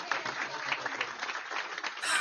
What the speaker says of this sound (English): then people clap and he comes back